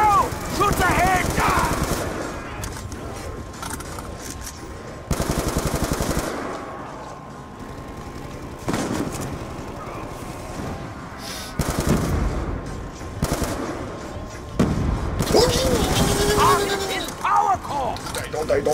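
Call of Duty: Black Ops II Zombies gameplay, with loud bursts of rapid automatic gunfire in several stretches and voices talking in between.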